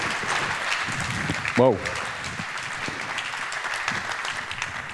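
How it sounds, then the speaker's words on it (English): Applause from a conference audience at a security talk fills the room steadily, with a short spoken exclamation briefly rising above the clapping partway through. "So give a nice round of applause"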